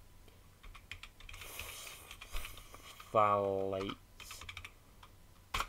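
Keystrokes on a computer keyboard, a handful of soft, close clicks spread through the clip, with a voice speaking over part of it.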